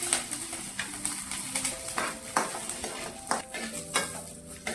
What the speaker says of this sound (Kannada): ಹಸಿರು ಮೆಣಸಿನ್ಕಾಯಿ, ಅವನೊಂದು ಸ್ವಲ್ಪ ಹುರ್ಕೊಳ್ಳೋಣ್ರಿ. ಒಂದು ಸ್ವಲ್ಪ ಎಣ್ಣೆ ಹಾಕೋರಿ ಅದಕ್ಕೆ ಮೆಣಸಿನ್ಕಾಯಿಗೆ,